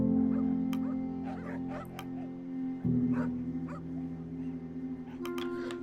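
Dog whimpering in the video game The Pale Beyond, a soft high whine and yips set over a steady low ambient drone, close and moderately loud with no talk.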